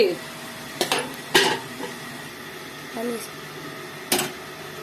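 A metal lid set onto a pot of simmering bean curry in a home kitchen, with a few sharp clanks and clatters spaced over a few seconds against a quiet background.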